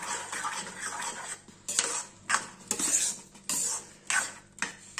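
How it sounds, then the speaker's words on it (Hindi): Carrot halwa being stirred in a pan over a low flame, a metal spoon scraping and clinking against the pan in repeated sweeps and knocks, close and fairly loud with no voices. "लगातार इस स्टेज पर चलाते रहेंगे, नहीं तो गाजर का हलवा लग जाएगा"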